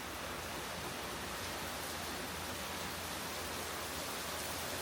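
Heavy rain pours down steadily outdoors, a dense, even hiss that holds constant throughout without pauses or other sounds.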